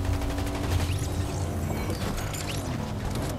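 Fortnite Battle Royale gunfire from bots crackles as a dense, continuous stream of rapid shots over busy game sound, steady and fairly loud throughout.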